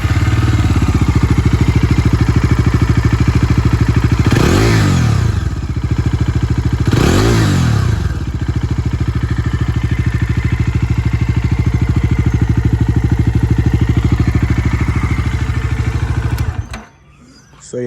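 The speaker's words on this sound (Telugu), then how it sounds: "సో ఇదనమాట దీని సైలెన్సర్ సౌండ్ అయితే మనకి చాలా బాగుంటుంది." Bajaj Dominar 250 motorcycle idling close by with a steady throbbing exhaust note, two brief throttle blips rising and falling, before the engine cuts off near the end.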